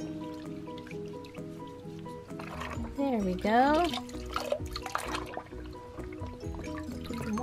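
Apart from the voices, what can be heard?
rinsing a toy with water in a bathtub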